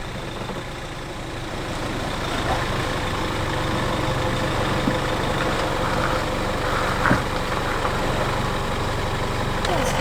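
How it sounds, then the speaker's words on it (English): A 4x4 engine idles low and steady in low gear while rolling down a sandy beach-track slope, a continuous rumble with faint rattles and no talk over it. "just lock it in low gear and let it idle down"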